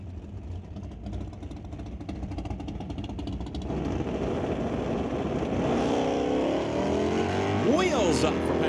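Two drag racers, a 1989 Chevrolet S10 and a 1968 Acadian, launch off the line, engine roar building loud and sustained, rising in pitch near the end over a steady background of crowd and track noise.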